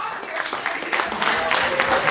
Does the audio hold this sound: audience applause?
yes